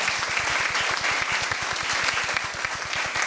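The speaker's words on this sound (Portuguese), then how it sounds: "a quem eu peço uma salva de palmas" An audience at a literary panel gives steady, dense applause for a speaker being introduced, a continuous even wash of clapping throughout.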